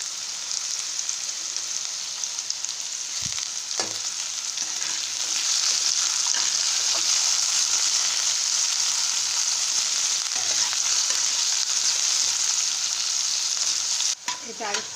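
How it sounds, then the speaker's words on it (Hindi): Potato pieces frying in hot oil for an Odia cabbage curry, a steady close sizzle with brief stirring scrapes, growing slightly louder midway and ending with a clatter. "आलू टिके हमें फ्राई कर नबा"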